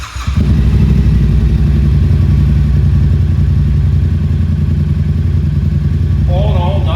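A Yamaha R7 sport motorcycle with a Yoshimura full exhaust idles loudly and close indoors, a steady deep throbbing rumble that barely changes over several seconds.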